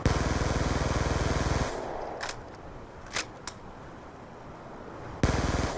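A Scorpion Evo submachine gun fires in a video game in two loud, dense, rapid-fire automatic bursts, one at the start and one near the end, with a few sharp single reports in between.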